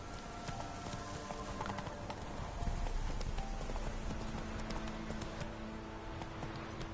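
In The Witcher 3: Wild Hunt, a horse gallops with a fast, even run of hoofbeats, close and steady over a dense layer of ambient game sound.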